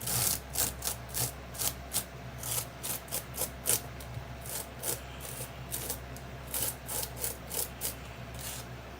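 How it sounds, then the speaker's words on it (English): Texture sand paste scraped through a stencil onto card with a spreading tool, a rhythmic run of gritty rasping strokes, close and steady with brief pauses between passes. "So cover your eardrums because I'm going to scrape this through now."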